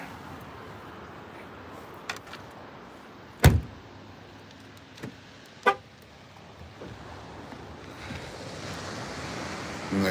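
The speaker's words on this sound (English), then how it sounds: "And I can hear the ocean here." Steady broadband wash of distant surf fills the background, with a few sharp knocks and clunks standing out above it.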